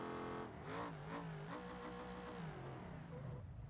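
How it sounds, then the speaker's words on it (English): A car engine in the BeamNG driving game revs steadily against the rev limiter, a sustained buzzing mid-pitched drone with slight wavering, fairly faint and heard alone. "Get into the rev limiter there, and we're gonna just send it"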